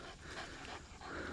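A hunting dog pants steadily at close range during a quail hunt, quick breathy huffs running continuously through the clip.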